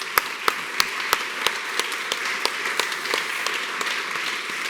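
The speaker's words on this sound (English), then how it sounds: "Can we just give them a big round of applause" An audience claps for a discussion panel, sharp individual claps standing out near the start and then settling into a steady, moderately loud spread of applause.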